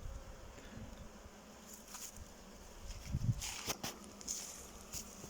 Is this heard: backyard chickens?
no